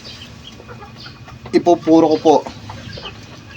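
Jersey Giant chickens in a backyard flock cluck in a short burst of several close calls, with someone speaking around them.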